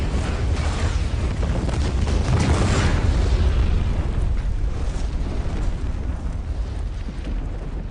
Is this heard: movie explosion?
yes